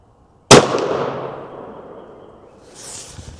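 A single sharp report from a Faxon FX7 rifle firing an 8.6 Blackout round, loud and close, followed by a decaying echo.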